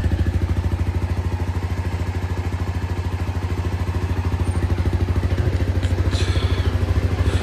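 A Voge 300 motorcycle engine idles steadily and close by after a cold start, a fast even chugging that holds a constant rhythm throughout with a faint clatter over it.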